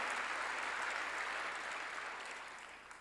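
Steady, dense applause from a church congregation during a sermon, sustained throughout and slowly tapering off toward the end.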